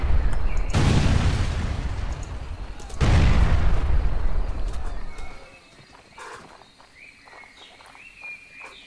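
Two heavy booms of cannon fire in a video game, each a loud blast that decays slowly, followed by quieter scattered clatter and distant thuds.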